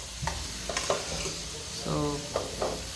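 Sliced onion and green chili fry in a kadhai with a soft, steady sizzle. Several short scrapes and stirs of a spatula break through, all fairly quiet.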